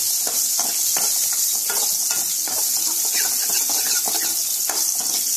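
Onions and green chillies sautéing in a pan for sambar, a steady close sizzle with light scraping and stirring clicks throughout, no talk.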